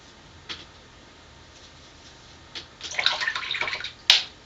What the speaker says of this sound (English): sometimes you got to rinse off your brush just so that you can get the excess black off there